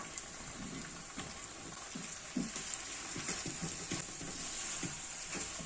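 Mushrooms and vegetables for a chicken sauté fry quietly in a pan, a faint, even sizzle with soft irregular stirring taps, no voices.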